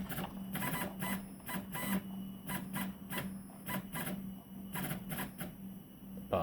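CTC i3 clone 3D printer axes making short stepper-motor moves in bursts, a steady motor whine punctuated by repeated brief whirring jogs, close and fairly quiet.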